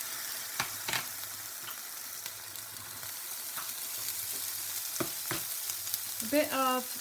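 Red onion, yellow pepper and tomatoes fry in a pan with a soft, constant sizzle, broken by a few sharp utensil clicks and scrapes near the end.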